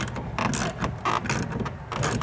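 Clamp tightened down on a BAKFlip F1 hard tonneau cover rail on a 2022 Ford F-250, a close series of uneven ratcheting clicks and scraping metal turns in quick bursts, with no talk over it.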